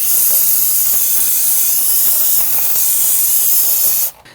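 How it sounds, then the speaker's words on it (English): A loud, close, steady hiss of solvent cleaner sprayed from an aerosol can onto a Volvo XC60 wheel hub during a front wheel bearing replacement, lasting about four seconds before cutting off abruptly. "we're going to go ahead and use some spray solvent and clean this up."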